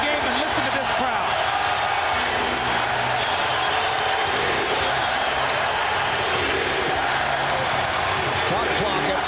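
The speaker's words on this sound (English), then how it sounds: "listen to this crowd" A loud, steady roar from the home crowd fills a Philadelphia basketball arena during Game 3 of the 2001 NBA Finals, Lakers at 76ers, sustained and dense throughout without a break.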